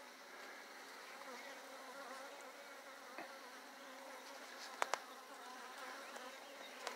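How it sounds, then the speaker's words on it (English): Honeybees buzzing over a brood frame during a hive removal, a steady dense drone from many bees close by, with a few brief clicks and knocks of handling. "you see how many bees are covering a frame here?"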